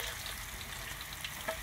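Fresh fried tofu going into a hot pan for vegetarian bánh xèo gives a steady, close sizzle of frying oil throughout, with a faint stirring scrape near the end.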